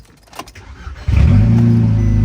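An Audi's engine fires inside a garage after a second or so of quiet shuffling, then settles into a loud, steady idle with a strong low rumble.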